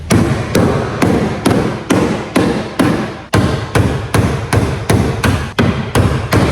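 Repeated hammer blows on parts of a BMW E36 or E46 M3 during repair work in a tuning garage, about a dozen loud, close metallic strikes at a steady, even rhythm.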